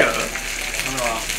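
Somen noodles coated in potato starch sizzle steadily in a pan over medium heat, a dense continuous frying hiss close to the mic with no talk.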